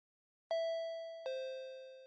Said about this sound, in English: Ring my own doorbell.